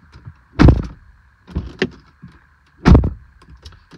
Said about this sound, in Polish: dźwięk zamykanych drzwi jest taki typowy dla Skody, taki troszeczkę pustawy